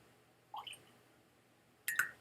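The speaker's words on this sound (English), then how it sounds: "A few drops." Drops of water added to Waterford Organic Gaia Irish single malt whisky, two faint close-up drips landing about a second and a half apart in near silence.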